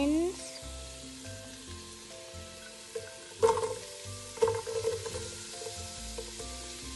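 Garlic and onions frying in hot oil in a pan, a quiet steady sizzle with a few louder scraping stirs near the middle.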